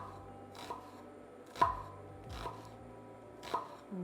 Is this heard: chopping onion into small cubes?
yes